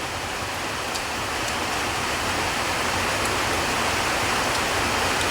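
Rain falls outside as a dense, even hiss that stays steady and fairly loud throughout, with no voices.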